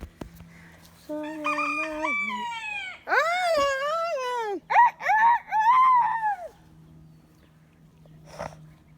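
A rooster crows nearby in a loud, strained call with rising and falling pitch, followed by shorter choppy crowing bursts and faint background noise.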